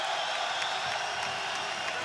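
Crowd at an MMA fight cheering and roaring steadily as knees land in a tight clinch, a dense, continuous wash of distant voices with scattered louder whoops.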